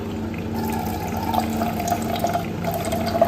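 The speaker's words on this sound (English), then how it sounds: "So we'll let the water flow." Water running steadily from a tap, a continuous close rushing flow that holds an even level with small splashy fluctuations throughout, no voices.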